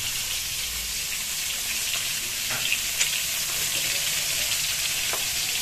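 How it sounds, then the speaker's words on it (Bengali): Eggs fry in a pan, a continuous bright sizzle holding steady throughout with occasional small pops and stirring touches, close and fairly loud. "এই আমাদের এখানে ডিমটা ভাজা হচ্ছে"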